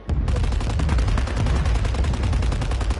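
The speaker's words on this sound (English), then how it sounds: "Where is everybody shooting at?" Rapid, dense gunfire from a video game shooter, loud and continuous over three seconds with machine-gun bursts overlapping and no talk above it.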